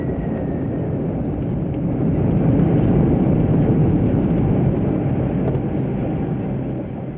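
A Concorde supersonic jet airliner roars steadily on a steep takeoff and climb out of Las Vegas, a loud, continuous broadband engine rumble heard from inside the cabin with no talk.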